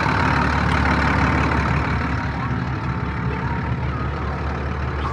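A John Deere 7810 tractor with a mechanical gearbox idles close by, its diesel engine giving a steady, loud, low rumble that holds even for about five seconds.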